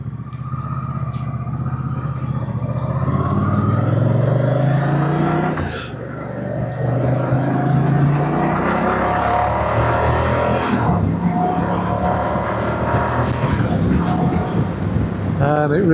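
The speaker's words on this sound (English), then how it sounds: "Exhaust notes really nice for a standard exhaust." A 2025 Moto Guzzi Stelvio motorcycle with its standard exhaust runs loud and close, its engine note climbing and falling through gear changes, with wind buffeting across the microphone throughout.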